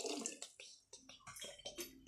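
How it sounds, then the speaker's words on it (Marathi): Water poured into a pot of home-style dal, a few short splashing gushes and drips in quick succession, close but fairly quiet. "आणि आता आपण पाणी ओतणार आहोत."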